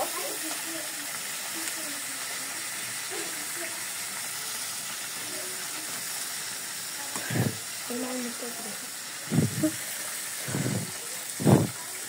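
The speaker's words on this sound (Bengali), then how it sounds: "মাছগুলো ভেজে নেই, কড়া করে একদম লাল হবে।" Rohu fish pieces frying hard in hot oil give a steady, even sizzling hiss throughout, with a few louder bursts of spatter and crackle near the end.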